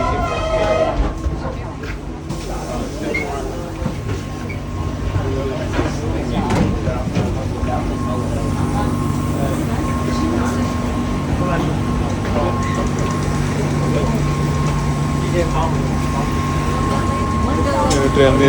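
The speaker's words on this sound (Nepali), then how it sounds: "यो ट्रेन चाहिँ अलिकति धेरै नै हल्लिन्छ कि, ग्यान्द्राङ गर्छ।" Inside a moving passenger train in Australia, a constant low rumble and rattle of the shaking carriage fills the space, steady and fairly loud, with voices faintly present over it.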